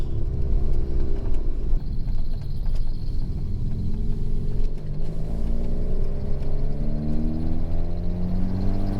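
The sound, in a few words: Ford Fiesta ST car driving laps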